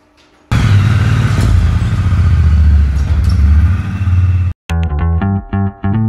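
Triumph Bonneville T120 Ace motorcycle ridden on the road at 70 to 80 mph in cold weather, giving a loud, steady engine drone with wind rush, then a brief cut and a change to a lower, pulsing tone.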